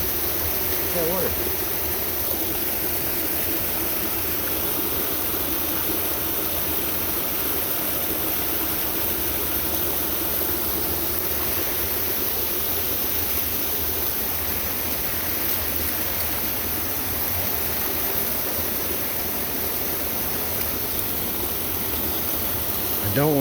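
Rushing water from a hidden waterfall and stream, a steady broadband roar filling the scene, close and continuous, with a voice speaking briefly over it.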